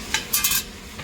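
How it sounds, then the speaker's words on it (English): Eggs whisked in a bowl for a breakfast bake: a few quick, scraping strokes in short bursts, close and fairly soft, with no talking. "And then I will mix up my eggs"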